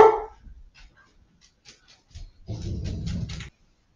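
A house dog barks at next-door neighbors arriving home. One sharp, close bark opens the scene, then scattered faint taps and a short burst of rustling noise follow in an otherwise quiet room.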